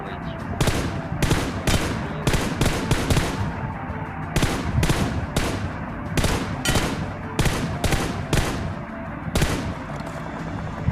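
Gunfire in a battle royale game, rapid bursts of shots in repeated clusters, loud and close, with brief gaps between volleys and a faint voice underneath.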